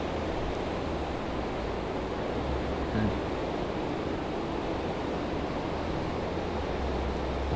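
Rushing river water flows steadily beneath a bridge in Rome, a constant broadband wash of current that stays even and fairly close throughout, with no voices over it.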